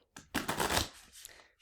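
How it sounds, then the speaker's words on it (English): A deck of cards being shuffled by hand at a table, a quick rippling burst of riffled cards that peaks briefly and then trails off into softer shuffling, close and alone without talk. "I'm going to shuffle one more time"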